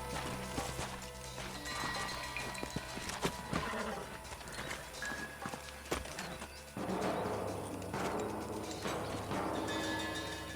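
Horses in the Western video game Red Dead Redemption clop and snort amid game sound effects and music, with hoofbeats running steadily throughout and a shift in the mix partway through.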